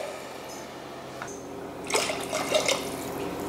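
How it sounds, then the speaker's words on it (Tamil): Water splashes into a pot of rice in a short pour after a quiet stretch, bubbling and gurgling close by for about a second and a half. "இதில் தான் தண்ணி சேர்க்குறேன்."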